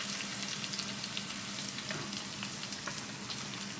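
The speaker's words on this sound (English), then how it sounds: "This is the second batch, looking good after frying it for 6 minutes." Chicken tenders for Doritos-coated crispy tenders frying in hot oil, a steady dense sizzle with scattered pops and crackles throughout, close and fairly quiet, no talking.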